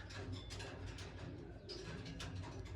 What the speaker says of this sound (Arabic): باغيين ياكلوا دابا اخوتي الحمام